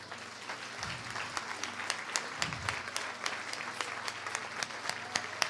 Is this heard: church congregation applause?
yes